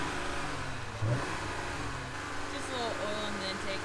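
Engine of a 2018 Jeep Wrangler JLU Rubicon revving at a trail event, a moderate rising drone with a brief surge near the one-second mark, heard somewhat distant beneath ambient noise and people talking.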